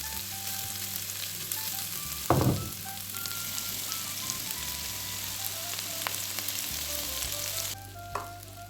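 Chicken and vegetables fry in a pan for desi chicken macaroni, giving a continuous close sizzle with a few louder stirring scrapes and clanks over a steady low hum.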